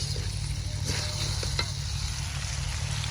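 Prawns frying in a hot pan in a home kitchen: a loud, continuous close-up sizzle and crackle with occasional stirring movements, no voices.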